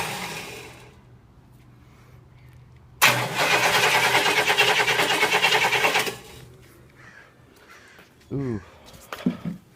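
A Cadillac 8.4L 500ci V8 engine being cranked with fuel, a loud three-second burst of starter churning that cuts off abruptly, framed by quieter background noise and brief voices afterward.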